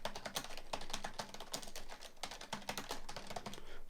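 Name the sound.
typing on computer keyboard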